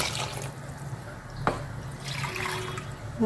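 Water is poured and swirled into a mixer jar while egg curry cooks, giving a soft, close trickle and splash with one sharp tap partway through.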